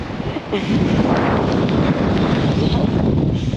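Strong wind on a snowy Cairngorms mountain buffets the microphone in a loud, steady roar with gusty rumble for the whole few seconds, and no clear speech.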